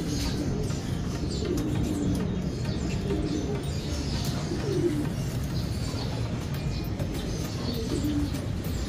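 Pigeons at a coop as a bird with clipped wings lands on the landing board and goes inside, soft coos and wing flutters over a steady outdoor background, with a low voice faintly present.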